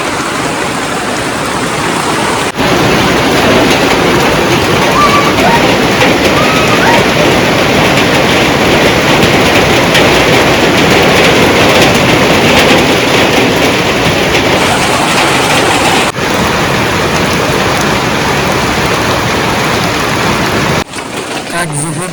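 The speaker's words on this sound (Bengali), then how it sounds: "বৃষ্টি পড়ে গেল বন্ধুরা, দেখুন একটু কমছে" Heavy rain pours down in a loud, steady hiss that barely changes, with a brief dip near the start and end.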